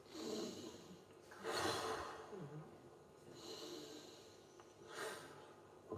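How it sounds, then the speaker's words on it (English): Slow deep breathing during a guided anxiety-relief practice, drawing in through the nose and releasing out through the mouth, with soft airy inhales and exhales repeating in a calm rhythm, close and fairly quiet, no talking. "If you have a lot of anxiety, you inhale through the nose,"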